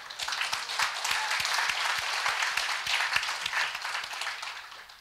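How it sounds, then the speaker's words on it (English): Sustained applause from an audience at an annual meeting session on women's participation in economic growth, a thick, continuous patter of many clapping hands with no voices over it. "I think we should give applause on this"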